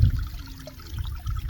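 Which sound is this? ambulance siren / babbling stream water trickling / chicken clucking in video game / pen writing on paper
babbling stream water trickling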